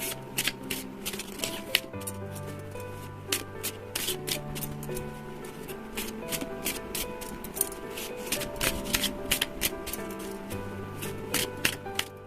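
Tarot and oracle cards shuffled by hand, a steady run of soft papery riffles and rubs close up, continuing throughout with gentle music underneath.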